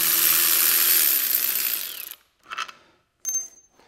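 A ratchet wrench loosens a bolt on an MGB GT under stripped-down engine work, a loud continuous whirring rattle that cuts off, then a couple of short metallic clicks.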